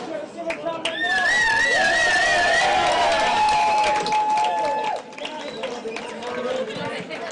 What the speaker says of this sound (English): the crowd is getting noisy